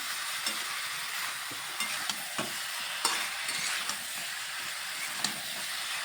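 Boiled potatoes and raw jackfruit sauté with tomato in a hot pan, giving a soft continuous sizzle broken by occasional scrapes and clicks of a stirring spoon, with no talking.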